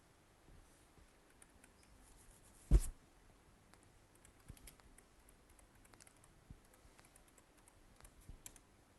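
Code is typed on a computer keyboard as soft, quick key clicks in irregular bursts, close and quiet, with one louder knock partway through.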